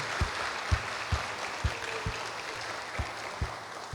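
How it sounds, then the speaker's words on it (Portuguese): An audience at a family conference claps steadily, a dense wash of applause with a few sharper claps standing out. "Vamos bater palmas para eles também."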